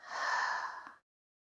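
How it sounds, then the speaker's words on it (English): A single audible open-mouth exhale during a yoga practice, a soft breathy sigh lasting about a second, close and alone before silence. "Inhale through your nose. Open mouth, exhale."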